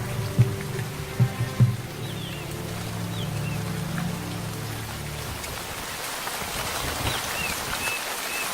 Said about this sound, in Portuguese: As chuvas ficam mais pesadas e mais frequentes.